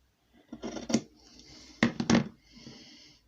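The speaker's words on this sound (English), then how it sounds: "I'm just going to cut it off a bit shorter" Scissors snip through an index card for a handmade pocket, giving a few separate crisp cuts close to the microphone, with quiet handling between them and no talk.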